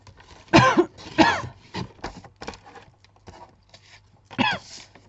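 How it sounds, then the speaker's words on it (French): A woman coughs in a few sharp bursts while making a double closing card by hand, with two strong coughs close together early, smaller coughs and throat sounds after, and a final cough near the end. The room is otherwise quiet. "Désolée pour la toux."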